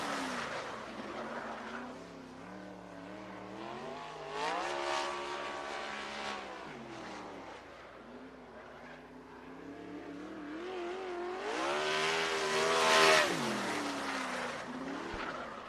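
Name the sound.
sprint cars racing at Sunset Speedway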